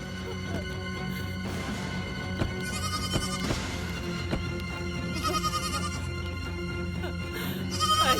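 A young goat kid bleats in several short cries over background music, moderately loud and close.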